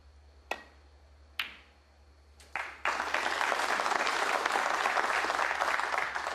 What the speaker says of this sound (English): Definitely deserves a round of applause for that.